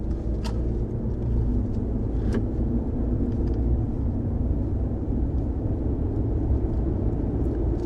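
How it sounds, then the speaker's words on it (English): A quiet-running truck accelerates up a freeway on-ramp, its low steady drivetrain rumble blending with a constant hiss of tire noise on the road, with a couple of faint clicks near the start. "I want you guys to hear the acceleration as I get on the on-ramp. And you can probably hear the tires."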